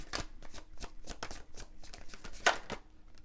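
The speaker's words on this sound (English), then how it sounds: "there's a few cards trying to come out right now." Tarot cards are shuffled by hand in quick, papery riffling bursts, each a soft flurry of slaps and flutters with short gaps between, close and fairly quiet, with no voice present.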